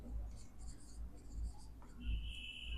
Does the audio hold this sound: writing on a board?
yes